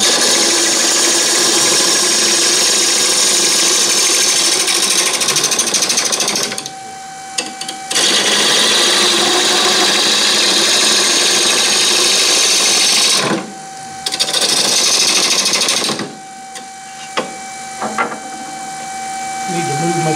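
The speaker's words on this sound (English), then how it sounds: "I may need to speed the lathe up just a little bit." A wood lathe spins during closed form turning, giving a loud, steady whirring drone that cuts out briefly a few times, with someone talking over it.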